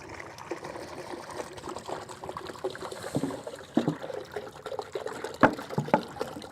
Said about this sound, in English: just going to pour the water in